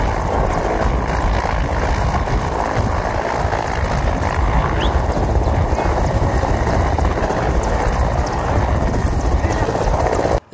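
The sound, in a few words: Federal Police helicopter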